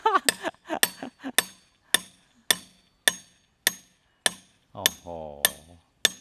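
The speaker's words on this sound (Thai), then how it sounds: "เราต้องไปตอกอย่างเงี้ยทุกที่เลยนะ" A hammer strikes a metal fitting during installation of an electric meter on an old-style pole, about eleven sharp ringing blows in a steady rhythm, close and loud, with a brief exclaimed voice between hits.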